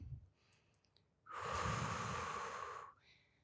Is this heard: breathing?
yes